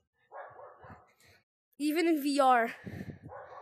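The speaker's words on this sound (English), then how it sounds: "Now the dog goes bark." A dog gives a drawn-out, whining bark at close range, set between bursts of talk from people playing the VR game Cube Runners.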